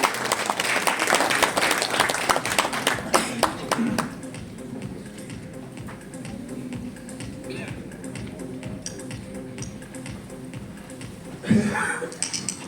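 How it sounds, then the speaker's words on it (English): An audience at the launch ceremony of South Asia's first women's handball league in India claps, loud at first and then fading to scattered lighter clapping, with a brief swell near the end. "A big round of applause, everybody."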